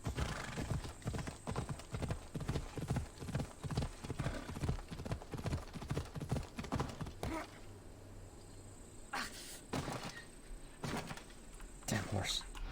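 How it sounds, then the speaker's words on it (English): Horse hooves clip-clop in a steady, quick rhythm through Assassin's Creed Odyssey, loud and close for about seven seconds over faint insect chirping, then drop away to quieter ambience with occasional short bursts. "Damn horse."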